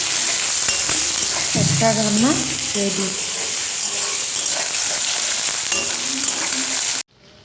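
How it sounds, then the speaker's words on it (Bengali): Bitter gourd slices frying in oil in a home kitchen give a steady, close, crackling sizzle for about seven seconds, with a voice speaking briefly over it before the sound cuts off abruptly. "এরকম তেলের মধ্যে অল্প অল্প করে দিয়ে ভেজে তুলে নেব"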